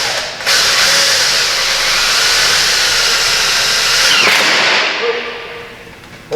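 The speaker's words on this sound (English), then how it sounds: "then I can just drive the screw right through it" A power drill drives a screw through a tin accent panel on a pole barn wall, with a loud, close, sustained whirring grind lasting several seconds before cutting off.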